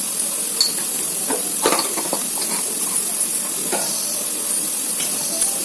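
Eggs fry with garam masala and chili powder in a pan on a low stove flame, a steady bright sizzle and hiss broken by occasional clicks of stirring.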